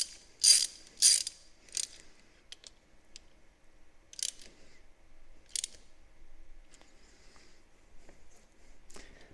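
A hand ratchet clicks in short bursts while snugging stainless steel bolts coated with anti-seize on a 1980 Chevy truck NP205 transfer case, crisp close ratcheting strokes separated by quiet pauses.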